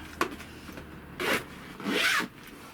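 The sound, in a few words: zipping up caravan pop-top side window zips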